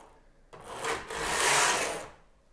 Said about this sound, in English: Now I'm going to take my carriage across once.